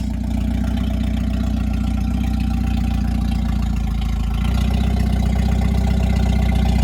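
A Jeep YJ engine running steadily with a low rumbling idle, the pitch dropping and the level rising slightly partway through as it is put into reverse.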